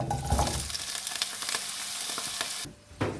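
Salsiccia sausage and garlic crackling in hot olive oil in a pan, a dense continuous sizzle close by that drops away briefly near the end before flaring up again.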